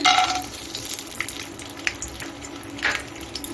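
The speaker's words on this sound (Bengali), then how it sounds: "বাদামটাকে আমি একের থেকে দেড় মিনিট একটু ভেজে নিচ্ছি" Peanuts fry in hot white oil in a non-stick pan, a close sizzling crackle with occasional louder bursts as they are stirred, steady throughout.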